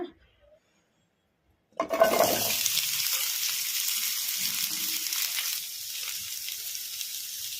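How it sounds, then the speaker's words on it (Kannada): After nearly two seconds of silence, chopped onions drop into hot oil in a kadai with a sudden loud hiss that carries on as a steady, close frying sizzle, easing slightly toward the end. "ಈಗ ಇದಕ್ಕೆ ನಾವು ಕಟ್ ಮಾಡಿ ಇಟ್ಕೊಂಡಿದ್ವಲ್ಲ ಈರುಳ್ಳಿ, ಈಗ ಇದನ್ನು ಹಾಕೋಣ."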